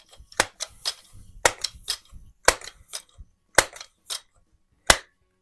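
Vintage 1949 Crosman model 120 air gun fired while plinking: seven or eight sharp, separate cracks spaced irregularly over a few seconds, close and loud, with faint handling clicks between them and no talk.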